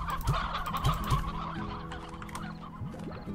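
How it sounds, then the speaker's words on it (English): Hens clucking in the video game Slime Rancher, a steady run of short, repeated clucks and squawks at moderate loudness over a continuous game background hum, with no talk. "Going to throw in the hen hens."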